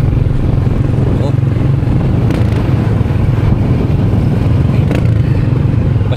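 Motorcycle engine droning steadily from the passenger seat as a reckless driver speeds along, a continuous loud rumble with rattles and rushing wind throughout.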